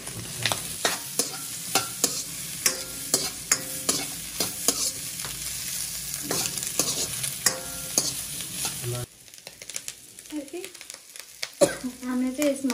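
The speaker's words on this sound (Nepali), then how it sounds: "अब चाहिँ हामी यो खुर्सानी प्याज लसुन सबैलाई फ्राई गर्छौँ एकछिन" Chilli, onion and garlic sizzle in a pan with frequent scraping stir strokes close up, before the frying hiss drops away into quieter clattering near the end.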